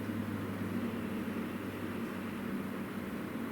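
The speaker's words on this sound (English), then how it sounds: "sounds like a plane." An airplane passing overhead at a large paranormal venue hall, heard as a faint, steady low droning rumble that holds evenly throughout with no voices.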